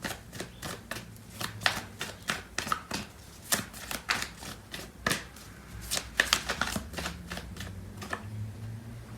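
A tarot deck is riffled and shuffled in quick, crisp bursts of card flutter. The shuffling is close, soft and repeated, with no voices.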